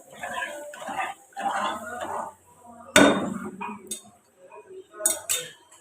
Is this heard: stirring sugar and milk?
yes